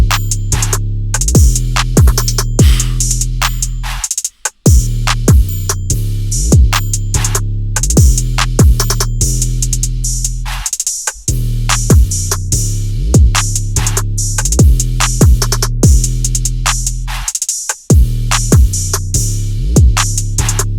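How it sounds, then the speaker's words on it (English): Programmed trap-style drum pattern, looping for about sixteen bars: booming 808-like bass hits, snappy snares and busy hi-hats, loud and continuous, with a few brief dropouts. "I'll play like 16 bars of the drums all together so you can kind of hear what they sound"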